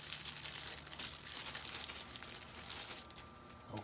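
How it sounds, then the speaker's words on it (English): A replacement Dell Inspiron laptop keyboard is unwrapped from bubble wrap, with close, faint crinkling and rustling of plastic going on throughout. "Comes in all pre-packaged with bubble wrap."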